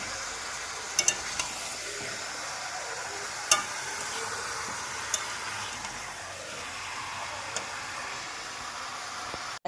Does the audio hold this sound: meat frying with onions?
yes